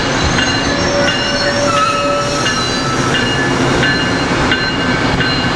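A passing train hauled by ACS-64 617 with Maryland car 7730 in its consist, with steady loud rumbling and a long, high wheel squeal running through it. No one speaks.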